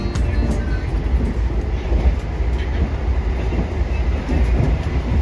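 The Lodaya passenger train rumbles along the rails near Yogyakarta station with a low continuous roar and faint rhythmic clatter of wheels, steady throughout.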